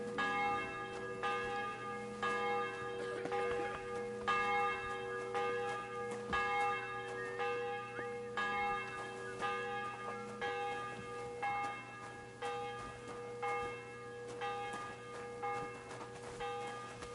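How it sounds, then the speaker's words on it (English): Church bell tolling repeatedly in the medieval game Kingdom Come Deliverance, a steady run of loud, ringing strikes with long overlapping hum, sounding alone for the whole stretch. "That's a lot of bell tolls."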